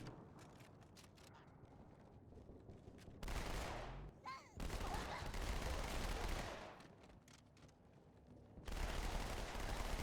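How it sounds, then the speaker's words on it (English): Gunfire in the video game Halo 2: Anniversary: scattered shots at first, then long sustained bursts of loud automatic fire with a brief lull in between, dense and close. "I'm gonna run straight into enemy fire."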